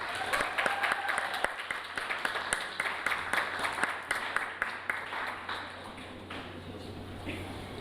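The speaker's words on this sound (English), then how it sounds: "Round of applause for Jess." Indoor student union election results night audience giving a round of applause for a newly elected candidate, dense clapping that is loud at first and gradually thins and fades, with a few voices underneath.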